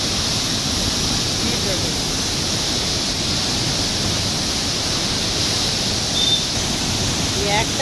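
Water rushes through an opened gate in the hills near Kalimpong, a loud continuous roaring wash that fills the scene without pause.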